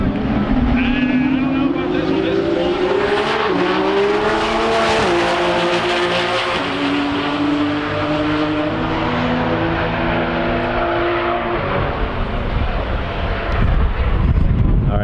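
A twin-turbo Dodge Viper and an Audi R8 drag race at TX2K21, loud engines roaring and rising through gears with sweeping pitch changes. Voices talk over the racket throughout.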